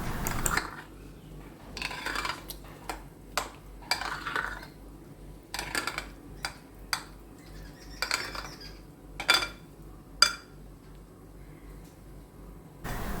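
A spoon scrapes and clinks against a bowl in irregular bursts as thick batter of beaten rice flakes (aval) is stirred, with quiet pauses between strokes.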